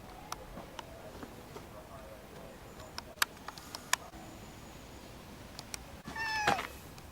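A house cat meows a few times, most clearly as a short rising call near the end, over quiet room noise scattered with faint clicks.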